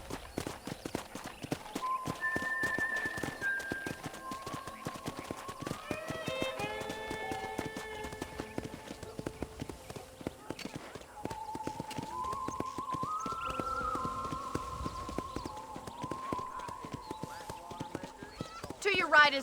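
Horse hooves clip-clopping at a steady riding pace in Red Dead Redemption on a ranch, with a whinny and spoken voices over the rhythmic, close hoofbeats.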